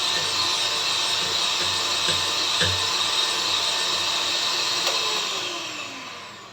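A blender whirs loudly and steadily as it mixes homemade mayonnaise, the motor running constant before tapering off near the end.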